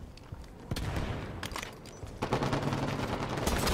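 Rapid gunfire from a competitive video game match, including a scatter-shot weapon, in dense close bursts that grow louder and more continuous toward the end.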